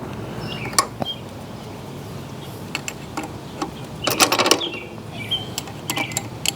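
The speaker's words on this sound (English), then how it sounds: "using a 10mm wrench, I'll try to remove some nuts and bolts" Metal wrench clicks and clinks while 10mm nuts and bolts are loosened on a motorcycle gear shifter, sparse light ticks with a short burst of rattling taps near the middle, close and quiet.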